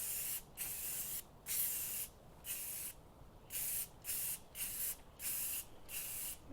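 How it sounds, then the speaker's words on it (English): A spray paint can hisses in a series of short bursts with brief pauses between them, loud and close, with no voices, while painting parts of a 1948 Farmall Cub tractor. "And I'll do 2 coats of this spray can."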